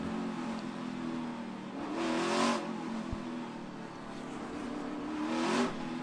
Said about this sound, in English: You can hear Briscoe trying to heat up his tires, making sure they're going to go stick to the road when he gasses her up here.